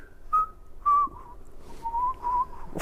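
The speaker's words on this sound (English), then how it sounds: "can you whistle like they did at the end?" Person whistling a short tune on request, a few clear sliding pitched notes with brief pauses, close and moderately loud, alone without talk.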